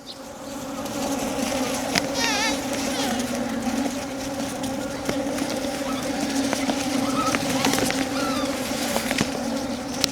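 Honeybees swarm around a wooden box hive during an inspection after a forced artificial split, making a dense, steady buzz close by. Pigeons coo faintly in the background, and a voice speaks at times.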